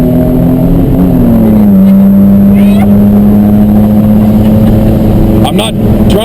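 A car engine with an exhaust leak revs hard and loud up close, its drone sliding in pitch as it pulls through the gears with no one talking.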